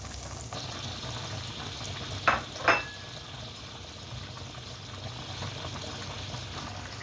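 Star margarine hits a hot pan with chicken, giving a steady, soft frying sizzle with two brief sharper bursts as it lands.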